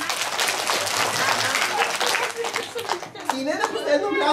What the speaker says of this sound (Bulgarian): След това пляскаме за чудесина!